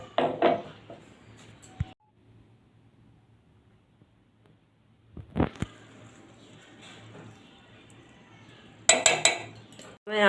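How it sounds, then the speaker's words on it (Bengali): A spoon scoops pulp out of cut mangoes for a mango lassi, making close clinks and scrapes against a bowl in short bursts, with a quiet stretch between them. "এবার আমের শাঁসটাকে আমি বের করে নেব"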